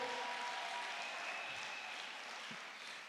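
A congregation at an Easter church service applauds steadily, a dense wash of clapping heard from within the crowd that holds level throughout and fades slightly at the end.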